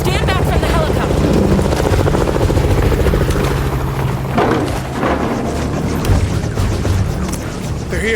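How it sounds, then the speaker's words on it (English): A loud, continuous helicopter roar dominates throughout, with a steady low rumble and rotor chop close by. "Stand back from the helicopter."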